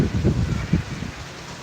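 Heavy rain pours at a Hari temple in Thakurnagar, a steady broadband hiss with dense low rumble that swells early and then eases slightly, no voices over it.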